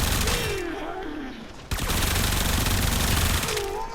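Supra Vandal gun in Warframe fired as a rapid, unbroken burst of shots, loud and close, stopping briefly with a sharp transient before resuming, with a voice heard faintly at the start and end.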